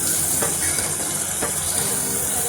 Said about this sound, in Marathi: आपल्याला ह्या वाटणाला जोपर्यंत तेल सुटत नाही आहे तोपर्यंत चांगलं हलवून घ्यायचं आहे